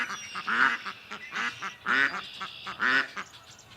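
Ducks quack loudly and repeatedly at close range, in four or five raspy bursts with brief gaps between them.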